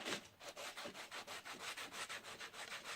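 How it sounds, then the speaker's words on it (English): Sandpaper rubbed by hand across the glued spine of a book being rebound, a steady run of about a dozen rhythmic back-and-forth scraping strokes, close and fairly loud, with no voices. "Take your piece of sandpaper again"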